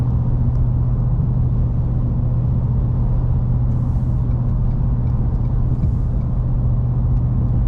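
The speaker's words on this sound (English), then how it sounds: "1800 RPMs, this is probably what it would sound like." Ford F250 with the 7.3 Godzilla engine and MBRP 4 inch exhaust, cruising at about 1800 RPM: a steady, loud, deep exhaust drone and road rumble, unbroken throughout.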